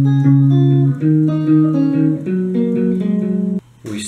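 A verse riff on guitar, a steady run of sustained melodic notes and chords played alone for about three and a half seconds before a brief noisy touch at the end.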